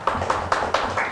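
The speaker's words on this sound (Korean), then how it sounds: "그 주님께 우리 영광의 박수를 올려드리도록 하겠습니다" A church congregation at a gospel conference worship gathering claps in a brief, steady run of about five sharp claps, evenly spaced and fairly close, with no talk over them.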